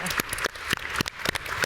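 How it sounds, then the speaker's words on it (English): Audience applause breaking out for women deminers in Angola at a panel event, a brief patter of clapping from a crowd under a steady room background, with no speech. "applause."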